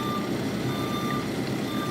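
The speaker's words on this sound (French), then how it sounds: "Puis il y a le bip bip quand on recule en plus." Reversing beeps from a truck in Farming Simulator 17 during a landscaping career, a steady, loud electronic tone repeating over a constant engine drone.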